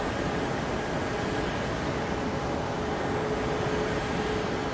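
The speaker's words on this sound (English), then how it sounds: "Oh, it's a 737, isn't it?" Boeing 737 jet at Ted Stevens International Airport in Anchorage, producing a loud, continuous engine roar with a thin high whine running steadily throughout.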